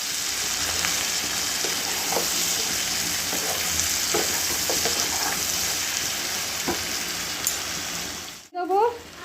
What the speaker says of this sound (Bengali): একটু নেড়ে ছেড়ে নেব।